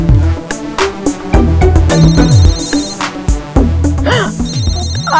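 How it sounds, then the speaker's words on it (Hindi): A phone ringtone plays loudly in a household scene from a Hindi TV serial, a repeating melodic tune of rising and falling notes in close foreground. "आ गया गरीबों का फोन।"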